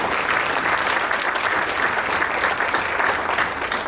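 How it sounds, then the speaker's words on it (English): Steady, dense audience applause at a sponsored panel event on AI, sustained and even at close range for the full length, with no talking over it. "Please give them all a round of applause."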